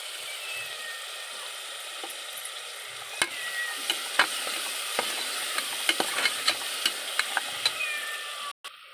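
Tomato, mint and curd sizzle and fry in a pan, a soft continuous hiss broken by a series of sharp, evenly spaced clacks as a utensil stirs the mixture.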